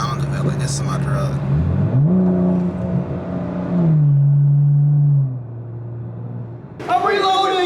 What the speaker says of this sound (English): just driving my car and hearing the sound of it